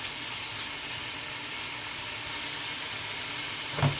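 Shrimp sizzle in a pan with a steady, close hiss and crackle that continues evenly throughout.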